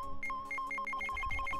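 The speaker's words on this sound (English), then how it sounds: "That's the sound of the metal detector signal bouncing off of something metallic." Metal detector signal in Phoenix Wright: Ace Attorney – Trials and Tribulations, a fast, regular alternating two-tone electronic beeping that repeats steadily over faint game background sound.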